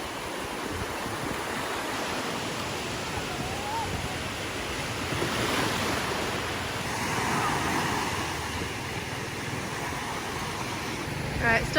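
Sea waves washing onto a beach in the Philippines make a steady, broad roar of surf throughout, with a child jumping over the waves nearby.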